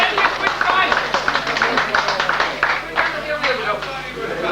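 Audience applause at a "This Is Your Life" style tribute evening, a dense patter of clapping running throughout, fairly close, with a few voices and cheers mixed in.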